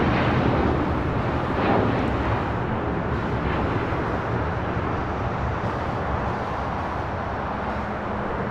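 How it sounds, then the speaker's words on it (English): A Spirit Airlines Airbus A321 jet airliner at LAX gives off a loud, steady broadband engine roar that holds nearly constant through the whole stretch, close and without talking. "Spirit A321"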